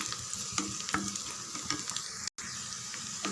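Onions with curry leaves and a cut dried red chilli sizzle steadily in a pan for chutney, a dense close frying hiss with occasional stirring clicks and one brief dropout.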